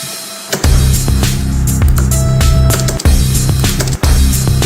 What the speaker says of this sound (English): That was like my crash with a lot of reverb personally.